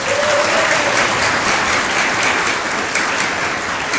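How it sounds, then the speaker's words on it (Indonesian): A large crowd applauding at a pesantren farewell night, a loud, dense, unbroken wash of clapping that holds steady for the full stretch. "Tepuk tangan untuk kita semua."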